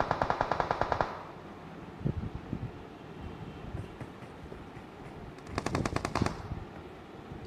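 Automatic weapon fire from a BGMI team fight comes in two loud rapid bursts, one at the start and one later, with scattered single shots and wind-like game ambience between them.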